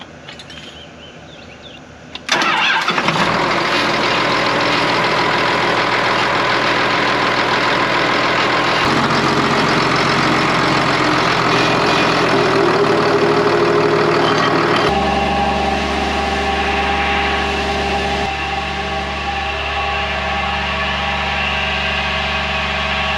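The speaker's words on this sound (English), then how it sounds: "We can already hear the pump starving for water." Irrigation pump engine on a farm well during wheat harvest, pump starving for water; after a short quiet start the engine fires into a loud, steady running drone whose tone shifts unevenly several times.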